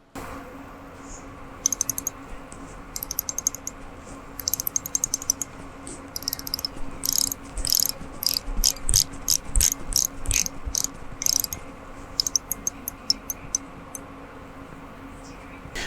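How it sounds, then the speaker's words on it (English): Rotating bezel on a Grand Seiko SBGH289 dive watch gives bursts of quiet, crisp ratcheting clicks in quick runs, separated by short pauses, close up over a faint background hum. "The bezel does feel good, it's a nice motion, but it is a little bit softer than I would have liked, and it's very quiet."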